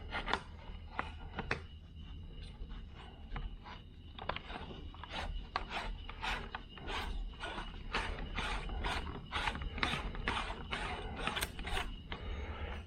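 Rapid mechanical ratcheting as a part is screwed on during work on a 1967 Camaro, a long run of sharp, evenly spaced clicks close by, steadily repeated over a low background hum.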